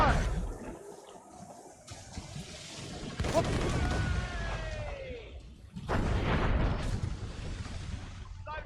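Ship cannon fire in Assassin's Creed Rogue, a naval battle with mortars, booming in repeated heavy blasts amid crashing impacts, while voices shout over the barrage.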